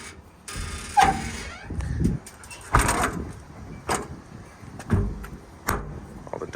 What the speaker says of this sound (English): All the doors close, latch, lock properly.